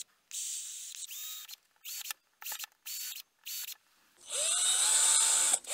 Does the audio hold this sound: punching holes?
yes